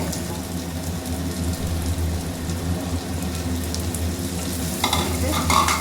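Ground spice mix for turkey berry gravy sautéing in a pan, a dense, steady crackling sizzle up close, growing a little brighter and louder near the end.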